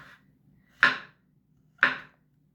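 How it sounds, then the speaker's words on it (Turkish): A knife strikes a cutting board while chopping chestnut mushrooms finely: a faint tap, then two crisp, evenly spaced chops close by, with quiet pauses between. "Bu kestane mantarı çok ince keseceğiz."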